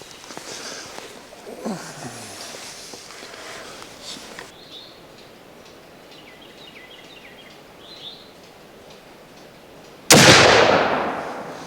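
A Thompson Center Hawken muzzleloader rifle fires a single loud, sharp shot near the end, its boom decaying over the following second after a quiet outdoor stretch with faint birdsong.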